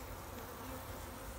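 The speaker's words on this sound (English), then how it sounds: "Look at the bees on the frames here." Honey bees crawl on hive frames and give a thick, steady drone up close, unbroken and without speech.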